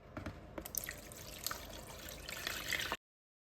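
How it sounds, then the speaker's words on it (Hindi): Soaking water from soaked black chickpeas pours off into a vessel in a steady splashing trickle with scattered drips, close and continuous for about three seconds before stopping abruptly. "अब हम इनका पानी जो है वो अलग निकाल के रखेंगे।"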